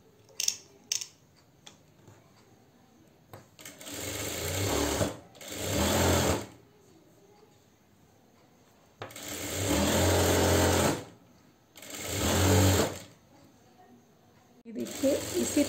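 Sewing machine stitching a salwar in several short bursts of fast, close, mechanical whirring, separated by quiet pauses with light clicks and handling of fabric.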